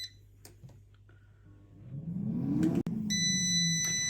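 An air fryer chimes at the end of its 15-minute cooking timer at 180 Celsius while potato wedges cook, a short run of steady electronic beeps rising over the appliance's fan hum near the end.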